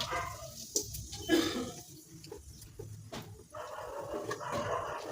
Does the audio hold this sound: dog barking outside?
yes